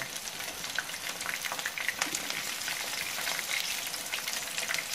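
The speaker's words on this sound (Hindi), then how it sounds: "तो ये हमारे अभी पकौड़े अभी फ्राई हो रहे हैं" Potato pakoras deep fry in hot oil, giving a steady crackling sizzle with scattered sharper pops, close and continuous at moderate loudness.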